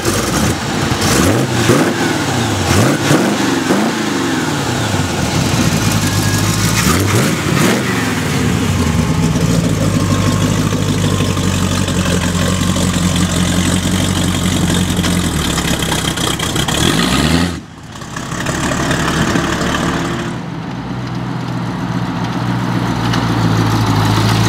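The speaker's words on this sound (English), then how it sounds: "Alright, Aubrey, let's go for a ride in this little 31 Ford." A 1931 Ford street rod engine revs in several sharp bursts, then settles into a loud, steady rumbling idle close by, with a brief dip near the end before it picks back up.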